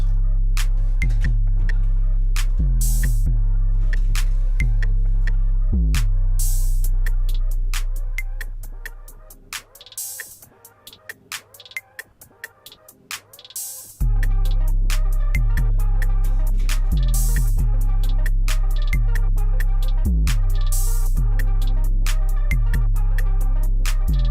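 A trap beat with booming sub-bass, crisp rapid hi-hats and snappy claps; partway through it thins to a sparse filtered break before the full beat drops back in.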